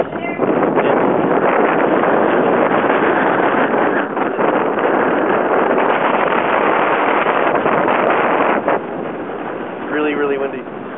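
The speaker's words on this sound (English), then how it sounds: "Really, really windy." Strong wind at Zion roars steadily into the microphone, loud buffeting rumble throughout, with a brief voice near the end.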